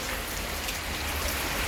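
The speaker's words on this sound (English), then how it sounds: "Good rains here at Chennai, and you can see a lot of rainwater," Heavy rain pours down steadily over Chennai, a dense, continuous wash of close raindrops hitting surfaces with no pauses and no voices.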